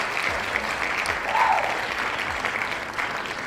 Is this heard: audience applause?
yes